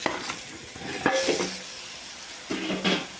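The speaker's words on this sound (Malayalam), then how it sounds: "വഴറ്റിയ സവാളയിലേക്ക് ഞാൻ മസാലകൾ ചേർത്ത് വെച്ച 1 കിലോ ചിക്കൻ" Spoon scrapes and stirs through sizzling spiced chicken, one kilo, and sautéed onions in a pan, in two bursts of clattering strokes over a steady fry.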